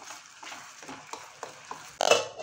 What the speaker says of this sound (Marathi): आणि हे चटणी आपण केली आहे ना ती याच्यामध्ये ॲड करायची आहे. छान अशी आपल्याला परतून घ्यायची आहे.